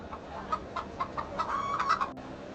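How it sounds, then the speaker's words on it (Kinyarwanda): Chickens cluck close by in a series of short, uneven calls that grow busier toward the end, with a farmyard background and no talking. "Sha, mbona ufite inkoko nziza cyane?"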